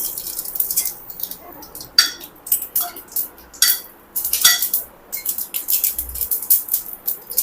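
Mustard seeds crackle and pop in hot oil in a pan, with scattered sharp snaps arriving in irregular bursts, close and fairly loud, with no talking.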